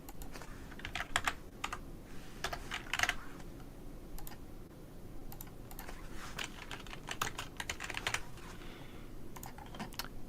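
Rapid computer keyboard typing, a close series of sharp plastic key clicks in short bursts with brief pauses between them, alone with no talking.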